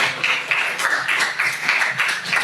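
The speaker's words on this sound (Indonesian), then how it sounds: "Ya, berikan tepuk tangan." A classroom audience applauds after a group presentation, with dense, even clapping from many hands that is close, fairly loud and sustained throughout, with no talk over it.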